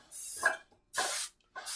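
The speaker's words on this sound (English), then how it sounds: "But I'm going to give it a good spray." Three short hissing sprays from an aerosol can of cooking oil, close and bright, each lasting about half a second with silent gaps between them.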